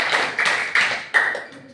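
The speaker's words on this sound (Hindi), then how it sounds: "इनके लिए भी तालियां बजाओ।" Schoolchildren in a government school classroom clapping together, a few loud bursts of applause that rise and fade in quick succession.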